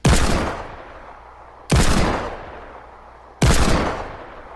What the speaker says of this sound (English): the rate I was firing that Eagle is roughly about as fast as you can fire it